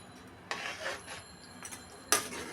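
Fried fish being stirred into potatoes in a pan, with a few scraping, clinking strokes of a utensil against the metal, quiet overall with two sharper knocks.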